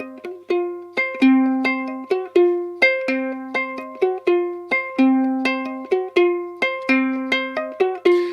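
A plucked ukulele plays a quick, repeating rock riff with bright, high notes in a steady driving rhythm, clear and close with no voices.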